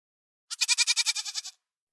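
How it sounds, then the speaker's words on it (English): A goat gives a single bleat, a loud, close, wavering call of about a second with a rapid pulsing quaver, alone against silence. "This is a goat."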